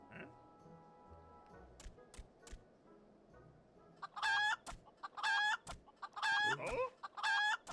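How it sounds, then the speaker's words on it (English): Chicken in the Final Fantasy XIV video game giving a run of loud, close clucks and squawks in quick bursts over the second half, after quieter game ambience with faint clicks. "That's just a chicken."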